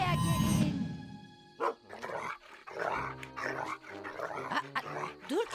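A dog barks and growls in short bursts alongside talking voices, with a loud harsh sound at the start.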